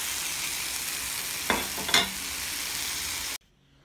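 Radishes and onion tops sauté in a pan, a steady close sizzle with two brief stirring clatters near the middle before it cuts to silence.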